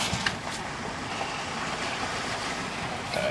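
A Toyota 4Runner pushes through deep water on an off-road trail, giving a steady wash of splashing and rushing water with a windy roar, close and continuous.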